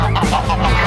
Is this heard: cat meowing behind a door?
no